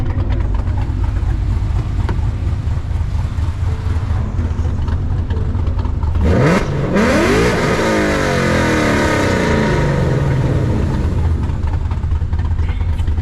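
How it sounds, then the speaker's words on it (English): A Chevrolet Camaro engine idles steadily, then is revved hard about halfway through with a sharp rising and falling roar, followed by a rumbling settle, loud and close by. "friend pulls up, his Camaro. Give him a little rev."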